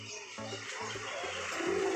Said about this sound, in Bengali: লাল শিরা নর পায়রা